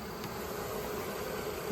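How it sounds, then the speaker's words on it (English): A large swarm of honeybees drones steadily, a dense, continuous buzz that stays close and unbroken from start to finish with no voices over it. "on second look, this is actually a pretty large swarm"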